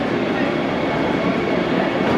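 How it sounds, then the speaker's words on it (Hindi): A Vande Bharat train rolls into a railway station platform with a loud, steady rumble and broadband rail roar that continues throughout, with a faint murmur of voices beneath it. "हमारी ट्रेन भी आ चुकी है,"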